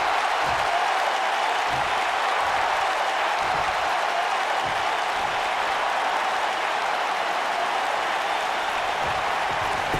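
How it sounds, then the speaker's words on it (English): A large crowd in the video game WWE 2K19 cheers and roars without pause during a steel cage match, a dense, steady wash of noise that sounds like a packed arena. "by the sound of this crowd, I think they're getting what they wanted."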